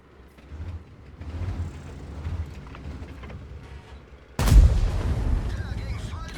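Tank cannon in World of Tanks fires once after a stretch of low engine rumble and mechanical creaks, a sudden loud booming blast followed by a rolling tail, with a voice talking underneath.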